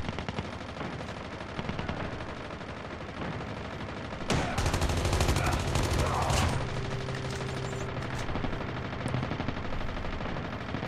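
Steady rapid gunfire in the mobile shooter Call of Duty Mobile, a continuous automatic stream that grows louder and denser midway with a heavy close burst, then settles into a droning background of game noise and shots.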